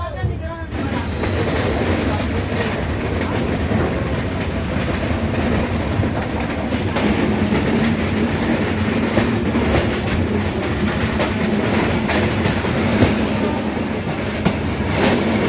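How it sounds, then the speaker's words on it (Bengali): Radhikapur Express rumbles along the rails near Dum Dum Junction, giving a loud, continuous roar with rhythmic wheel clatter and occasional squeals that last throughout. "ট্রেন আমাদের স্কিপ মারছে দমদম জংশন"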